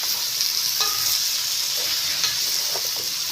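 Chunks of bottle gourd frying with shrimp in a pan, a steady close sizzle and hiss with a few soft scrapes of stirring, no voices.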